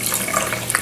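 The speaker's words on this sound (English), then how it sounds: "now I'm going to add water to this" Water runs into a cooking pot holding a salted and peppered pork roast, a short steady splashing pour close by with no talk.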